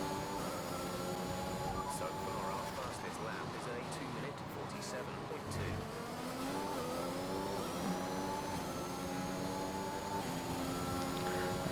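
F1 2021 race car engine in a PS5 racing game during a lap, a continuous loud high-pitched whine that climbs and drops through gear changes, with a voice talking over it.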